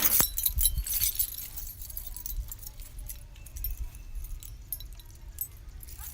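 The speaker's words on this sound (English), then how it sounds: "So I'm gonna step over here and get my keys." A set of keys jangles and clinks close by in a short burst at the start, followed by faint rustling and handling noise.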